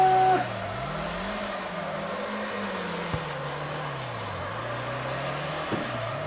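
Drift cars in the FR Legends video game drone with a continuous engine note that rises and falls as they rev through a run, with faint tire noise and no talk.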